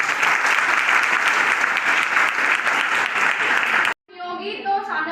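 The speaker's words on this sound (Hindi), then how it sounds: "ताली बजाओ बच्चों।" Children at a self-defence training camp clap together in a loud, steady burst of applause for about four seconds, which cuts off abruptly before someone speaks.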